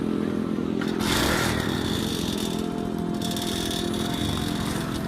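A motorcycle that had run out of petrol, its engine caught and running with a rough, continuous buzzing drone, loud and close throughout.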